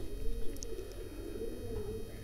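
Pigeons kept by a fancier in 13 Chak Bhalwal, Pakistan, coo softly in a low repeated murmur behind steady background noise, with no talk over them.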